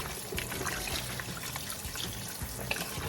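Tripe for menudo rinsed in a bowl under a running kitchen tap, a steady close trickle and splash of water as the bowl is moved around, with no talk.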